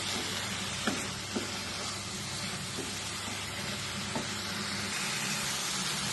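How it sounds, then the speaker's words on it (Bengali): Cabbage fries in oil in a pan with a soft, even sizzle and a few sharp clicks of stirring, heard close with no one speaking. "এবার আমি একটু কষাবো বাঁধাকপিটা ভাজা ভাজা হয়ে গেছে তেল বেরিয়ে এসছে এবার আলুটা দিয়ে দেবো"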